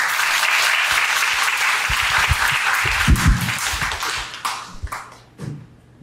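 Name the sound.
audience applause welcoming a forum speaker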